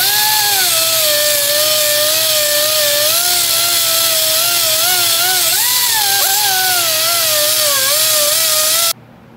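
A high-pitched power tool whines steadily while buffing gasket surfaces clean on a Ford engine block, a continuous loud screech with slight wavering pitch that stops abruptly near the end.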